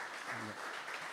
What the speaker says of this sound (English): let's give them a round of applause for the work well done.